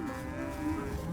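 Cattle low faintly on a beef farm breeding cows to Angus bulls, a single drawn-out moo heard from a distance over low background noise.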